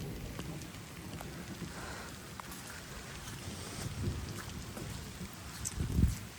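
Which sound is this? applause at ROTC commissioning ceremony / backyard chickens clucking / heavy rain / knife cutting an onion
heavy rain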